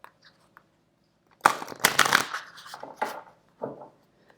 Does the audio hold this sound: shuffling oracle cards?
yes